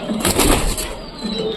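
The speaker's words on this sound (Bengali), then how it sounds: "এই দেখো, খুব সুন্দর কবুতর।" A pair of pigeons, one black, coo at close range in a home loft, soft and continuous through the short stretch, with light rustling and background noise.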